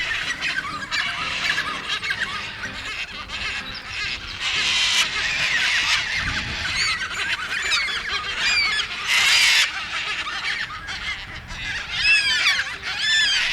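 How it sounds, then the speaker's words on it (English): Yellow-tailed cockatoos squabbling in Banksia, a series of harsh, loud screeching squawks rising and falling over several seconds, several birds calling close together. "Here in the Banksia, the yellow-tailed cockatoos have a dispute, or maybe they're just playing"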